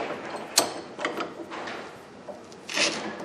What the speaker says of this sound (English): use my wrench, and it takes a certain amount of effort to turn that rusty nut on